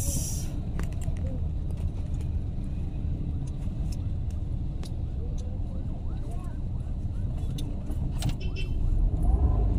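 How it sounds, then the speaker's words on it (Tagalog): Heavy road traffic heard from inside a car, a dense low rumble of engines and tires with occasional clicks, with muffled talk underneath throughout. "Sobrang tindi ng traffic."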